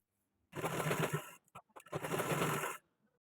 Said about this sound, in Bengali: দেখো তাহলে টেকিংটা সেলাই করে নিয়েছি